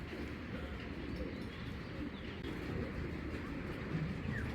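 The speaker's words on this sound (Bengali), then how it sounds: "এটা কিন্তু 2023-এর কবুতর ইয়াং বার্ড" Young 2023 racing pigeons of a foreign bloodline coo faintly and continuously, with occasional soft chirps and no talking, in a quiet, distant-sounding setting.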